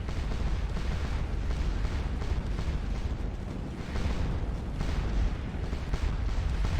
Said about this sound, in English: our artillery has opened up on Papilot here